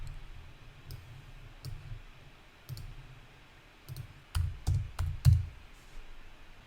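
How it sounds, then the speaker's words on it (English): Keys pressed on a computer keyboard while entering numbers in modeling software: a handful of separate clicks, then a quick run of louder taps near the end. "on the keyboard I will type 29, space 6, then enter"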